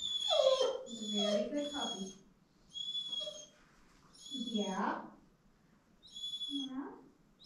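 A puppy whimpers and whines in short, high, wavering cries, about five separate bursts with brief pauses between them, fairly faint and close by.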